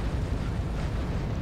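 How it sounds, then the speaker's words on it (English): Vehicle blowing up in GTA 3, a brief, dense rumbling blast that stays loud and thick across its short length, heavy in the low end. "He's gonna explode now."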